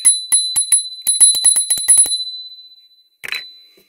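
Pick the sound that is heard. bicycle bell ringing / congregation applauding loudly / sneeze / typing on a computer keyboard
bicycle bell ringing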